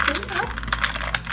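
Iced tea with oat milk and maple syrup is stirred in a glass, ice cubes clinking and rattling in quick, close, uneven taps, with a brief voice at the start.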